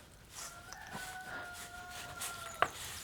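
Chickens give soft clucks while a rooster crows in one long, sustained call at moderate distance, ending in a sharp click.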